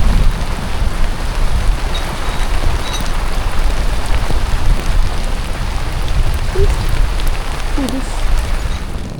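Heavy rain pounds steadily on a sailboat anchored in a bay, a dense loud wash with low rumbling thunder beneath it.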